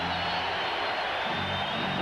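Basketball arena crowd at a 1991 Western Conference Finals Game 3 between the Trail Blazers and the Lakers, a dense, steady roar of many voices filling the space loudly and continuously throughout.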